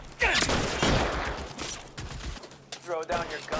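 Gunfire from a shootout in the video game L.A. Noire, during an arson case at the Nicholson Electroplating plant. Loud bursts of shots crack and echo through the first seconds, with voices calling out over the fight near the end.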